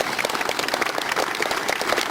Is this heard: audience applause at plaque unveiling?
yes